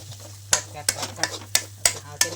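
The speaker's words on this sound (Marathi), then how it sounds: "एकच नंबर मसाला भाजलाय बघा" Spice masala frying in a kadhai for a village-style goat head curry, stirred with sharp metal scrapes of the spoon against the pan about every half second over a steady low sizzle, close and fairly loud.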